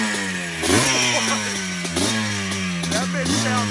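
Yamaha Blaster ATV engine with an FMF exhaust revving hard in repeated bursts, pitch climbing and falling three times, loud and close with crackly exhaust tone.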